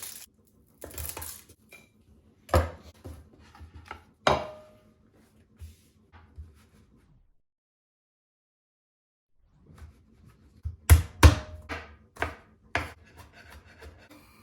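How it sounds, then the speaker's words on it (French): A knife cuts small shallots into thin slices on a board, making close, crisp taps and scraping strokes in two short bursts separated by a long silent pause. "Je vais préparer mes petites échalotes en fines tranches."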